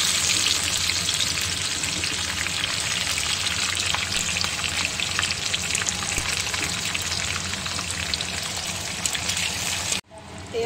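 Onions frying with dried chili and bay leaves in hot oil: a loud, continuous crackling sizzle that holds steady for about ten seconds, then briefly drops away before resuming.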